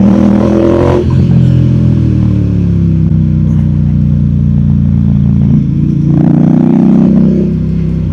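A Ducati Diavel Diesel Limited Edition motorcycle engine roars loudly and steadily, revving hard throughout with a rising surge of throttle near the end.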